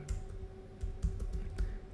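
Someone types a search term on a computer keyboard, a run of quick, close keystrokes in an irregular rhythm with a few sharper clicks, no voices over it.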